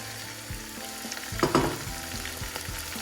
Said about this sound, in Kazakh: Енді осының үстіне біз сәбізімізді саламыз.